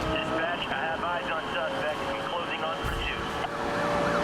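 Police siren wailing in the Need for Speed Rivals racing game, a steady pitched siren tone running throughout over engine noise and game sounds, loud and continuous, with someone talking over it.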